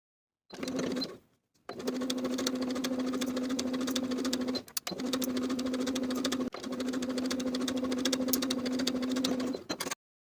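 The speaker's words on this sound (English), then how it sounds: "Sew both of those side cup seams with 1/4 inch seam allowance from top to bottom." A sewing machine runs side cup seams of a bralette at a quarter-inch allowance with a reduced stitch length, a close, even hum in three bursts separated by short pauses.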